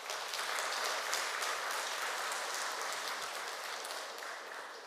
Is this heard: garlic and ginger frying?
no